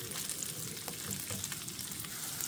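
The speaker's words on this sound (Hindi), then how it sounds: "तो प्याज़ों को हम अच्छे से फ्राई करते हैं।" Onions fry in a pan for a curry, giving a dense, continuous sizzle and crackle with faint stirring scrapes, close and steady with no voices.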